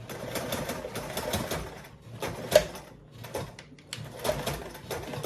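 A sewing machine runs back tacks across a bag handle on a tutorial project, short stitching bursts going forward and reverse, fairly close and steady with brief pauses between runs.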